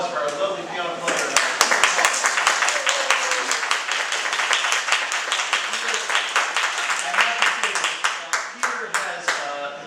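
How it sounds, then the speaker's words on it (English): An audience applauds a pianist at a group program, with dense, continuous clapping that thins into slower, separate claps near the end. Voices mix in with the clapping. "How about a round of applause for our lovely piano player?"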